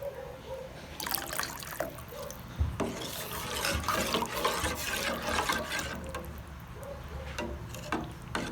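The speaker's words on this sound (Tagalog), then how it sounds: "Ang harina ay lagyan natin ng tubig para matunaw bago natin ilagay sa kaserola." Water splashes and trickles into flour in a bowl before it goes into a saucepan for gravy, a close, continuous liquid pour with small clinks and drips.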